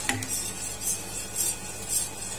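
A spoon stirs shrimp feed batter in a pan over a small flame, giving a sharp metallic clink at the start and then soft, rhythmic scraping strokes repeating about twice per second.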